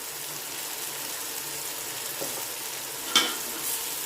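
Chili and coriander powder sauté in hot oil for a vegetable brinji, a faint steady sizzle with a brief scrape of stirring near the end.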